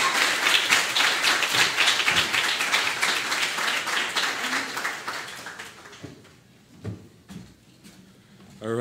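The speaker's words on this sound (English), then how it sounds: "Give them all a big round of applause" An audience at an afternoon archive-inspired talk applauds for a panel, with steady, dense clapping that thins out into a few scattered claps and chair or handling knocks as it dies down.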